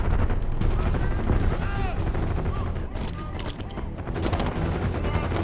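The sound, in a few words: gunfire in video game Call of Duty: Black Ops 6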